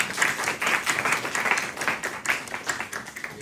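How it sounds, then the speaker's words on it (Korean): A church congregation at a Sunday service applauds to welcome visiting guests, with steady, moderately loud clapping and rhythmic bursts of hands that continue throughout without speech. "박수로 우리 함께 환영 인사하겠습니다"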